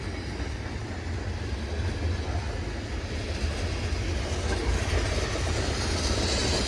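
A train rolls past on snowy railroad track in New York State, a steady loud rumble of wheels and cars that holds throughout with faint clickety-clack and no talk.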